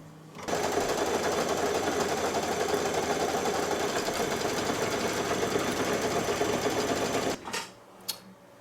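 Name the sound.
embroidery machine stitching a tack-down over batting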